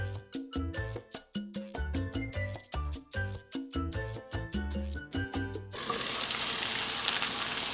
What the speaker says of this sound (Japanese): では玉ねぎを入れたら、蓋をして2分蒸し焼きします